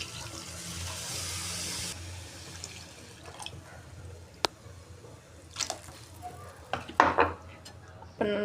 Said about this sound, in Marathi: त्यात आपल्याला आता पाणी घालून घ्यायचे आहे।